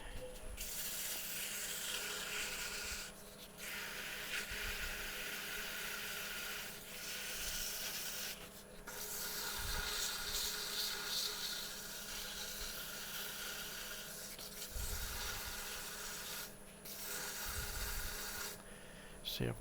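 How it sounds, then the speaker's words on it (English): Hand sanding on a wooden drawer pull gives a loud, close, rasping rub in long strokes, broken by short pauses between passes. "Let's do a little sanding."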